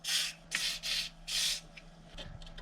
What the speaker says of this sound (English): Let's get some silicone spray on it.